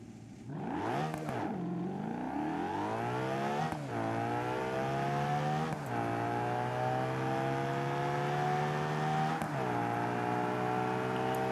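Drag car engine in the racing game BeamNG revving hard and loud with rising harmonic whine, punctuated by several sharp gear-shift drops and climbs, no voices.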